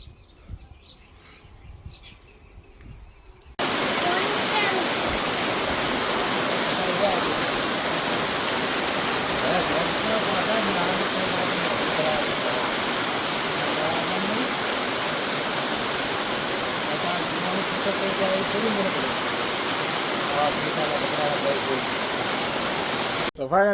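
Continuing rain and flowing floodwater at a flooded cowshed make a loud, steady rushing wash that starts after a quieter opening and keeps going, with faint bird chirps above it.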